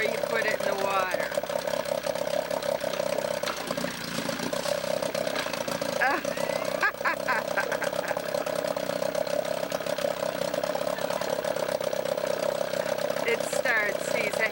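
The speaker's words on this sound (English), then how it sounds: "This is how you test the 1956, I think it's 56 engine before you put it in the water." A 1956 Penn Yan boat engine test-runs out of the water on a stand, a steady mid-pitched idle drone running throughout with faint clatter, while people talk over it.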